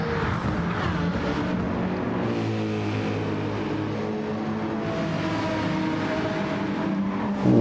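Race cars in a racing game at St Croix roar across the start-finish line, engines droning with rising and falling pitch as gears shift, fairly close and continuous for several seconds.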